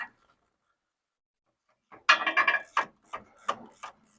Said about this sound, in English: once you have your bolts on this bushing, go ahead and get these tight first